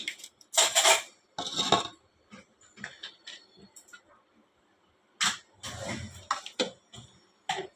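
Mutton being mixed by hand with sour yogurt, ginger paste, garlic paste and green chili paste in a metal bowl, giving bursts of wet squelching and clinking scrapes that come and go in uneven spurts.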